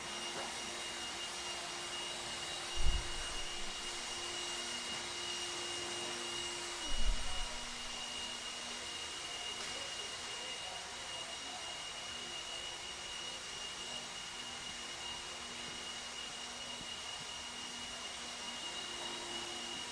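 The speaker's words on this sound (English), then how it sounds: "Grab your blowers." Continuous loud air blowers roar steadily at an RC dirt raceway as drivers clean their cars between practice sessions, with two brief thumps early on and no talking.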